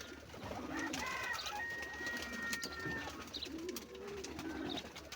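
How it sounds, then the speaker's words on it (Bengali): White pigeons coo in soft, repeated throaty calls, kept as pets in Saudi Arabia, with several birds overlapping at close range. "সুন্দর সাদা কবুতর"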